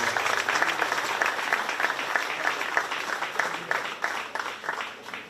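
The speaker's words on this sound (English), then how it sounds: "give these kids a big round of applause" An audience at a 4-H market beef show at the Shelby County Fair applauds the kids, a steady wash of many hands clapping, somewhat distant and moderately loud, fading slightly toward the end.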